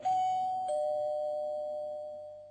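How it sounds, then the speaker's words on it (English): A two-tone ding-dong doorbell chimes once at an apartment door, the first tone clear and the second ringing on and slowly fading, with nothing else heard. "and rang the doorbell"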